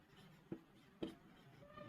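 Pen writing on paper while working a class 10 maths exercise, a quiet, continuous scratching with two brief louder taps or strokes, close and alone.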